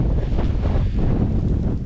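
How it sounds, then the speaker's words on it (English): Strong wind blows across an open farm field during canola seeding, buffeting the microphone with a loud, steady low rumble and gusty roar for a couple of seconds. "it's very windy conditions out here now"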